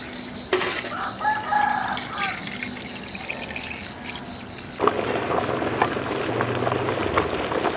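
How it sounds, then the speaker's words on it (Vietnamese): A large pot of Vietnamese black bean sweet soup with coconut milk and sticky rice boils hard, a steady bubbling seethe throughout; roosters crow in the background early on, and a splash and clatter come midway. "Nồi chè sôi dữ lắm luôn."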